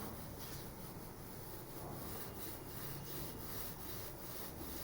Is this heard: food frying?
no